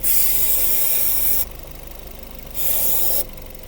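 Two bursts of loud aerosol brake cleaner spraying into an engine's air intake, a harsh broadband hiss, over the steady rumble of the running engine that continues between sprays, its running changing.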